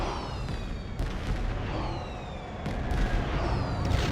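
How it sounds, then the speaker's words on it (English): Fireworks in the Star Trek Online video game burst repeatedly with loud booms and crackling, whistling trails overlapping in a dense, continuous barrage. "Fireworks!"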